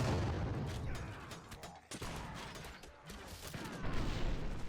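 In Warsword Conquest, a volley of arrows is loosed at Beastmen clumped together in their town, giving a dense, ongoing clatter of mechanical thwacks and impacts throughout.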